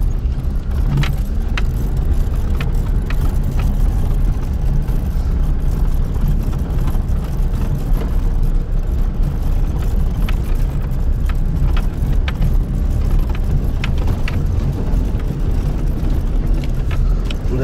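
A Daewoo Nexia car driving gives a steady, loud low road rumble heard from inside the cabin, with small rattling clicks and jingles scattered over the constant drone.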